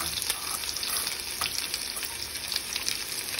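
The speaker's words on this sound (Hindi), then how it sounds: "अब जो प्याज काटी थी हमने वो डाल देंगे इसमें।" Chopped onions fry for rajma in a hot pan, giving a steady close sizzle with faint stirring scrapes and no talking.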